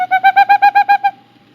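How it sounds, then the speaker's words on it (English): A rapid series of about nine clear, evenly spaced hollow toots from a ferruginous pygmy owl, loud and close, then silence. "Ferruginous Pygmy Owl."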